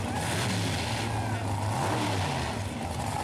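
A drag racing car's engine revs loudly at the staging line, a steady heavy roar held throughout, with crowd noise and people talking underneath.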